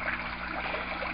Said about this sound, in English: the pipe over there is the water coming up out of the